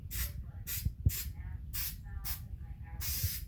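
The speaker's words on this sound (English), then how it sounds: "you want to spray a decent amount of adhesive in this crease" Adhesive sprays onto an old Honda Civic door panel in a series of about six short, close hissing bursts separated by brief gaps, with faint soft handling noises between.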